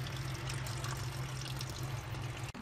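Antifreeze coolant pours and trickles steadily during a radiator flush on a Hyundai Accent Era, a continuous liquid rush with a low hum underneath and no talk.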